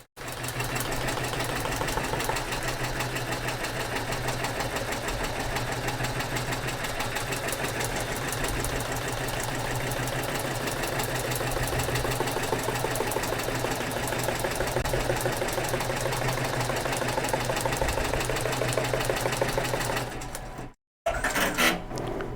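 A Merrow embroidery machine stitches steadily on its own, a continuous fast mechanical hum and clatter that holds even for about twenty seconds before a brief stop and restart.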